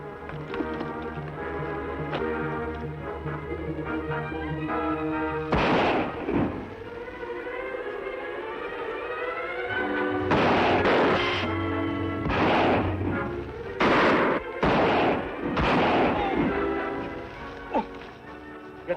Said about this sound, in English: I'll fire to keep them back.